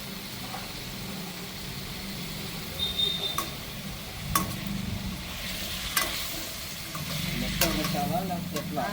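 Cauliflower sizzles and fries in a pan with occasional scrapes and taps of a spatula stirring, steady crackling underneath throughout.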